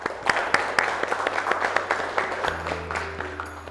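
Students in a classroom give their classmates a round of applause, a brisk burst of many hands clapping close by, steady and moderately loud, tapering off near the end as a low hum takes over.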